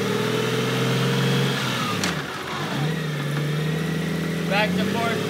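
2005 Honda Goldwing GL1800 motorcycle engine runs steadily, its pitch stepping and dipping through gear changes with a brief lull midway, loud and close, while someone speaks over it.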